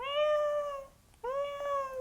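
A 20-year-old Norwegian woman who insists she is a cat gives two long, clear meows separated by a short pause, her voice closely imitating a cat.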